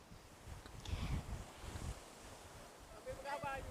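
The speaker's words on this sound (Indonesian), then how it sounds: "cuaca yang mendung sekarang membuat angin di tepi pantai sedikit lebih kencang" Wind gusts buffet the microphone on a beach in cloudy weather, with surf washing in the background; a faint voice is briefly heard near the end.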